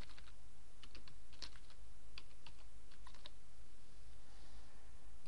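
Alt text being typed on a computer keyboard, steady quiet key clicks in uneven bursts over soft room hiss, no voices.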